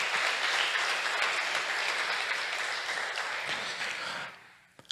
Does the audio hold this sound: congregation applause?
yes